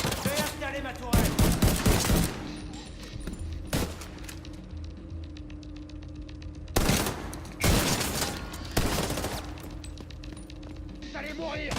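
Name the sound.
deployed turret firing in video game The Division 2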